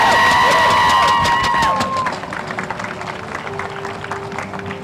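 A crowd at an outdoor Pride flag-raising ceremony applauds and cheers, with a sustained tone and bright whistles or voices at first, then scattered clapping continues at a moderate level.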